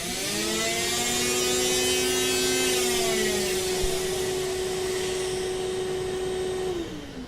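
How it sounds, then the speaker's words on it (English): A shop vacuum drones steadily at close range with a constant whine, then its pitch drops and it begins winding down near the end. "but you can hear the shop vac."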